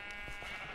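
A single short sheep bleat from the Minecraft video game, clear and close, with no talk.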